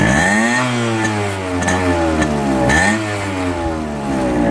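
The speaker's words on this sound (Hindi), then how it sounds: "अब इसका सुनते हैं दोस्तों एग्जॉस्ट नोट। इसको हल्का सा मैं रेव करके देखता हूँ।" A Yamaha RX100 two-stroke motorcycle is revved by hand, its close, loud exhaust note swelling and dropping in a couple of rising-and-falling revs over a steady idle.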